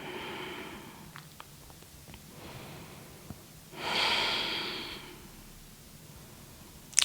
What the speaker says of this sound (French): Laissez la respiration se faire naturellement maintenant.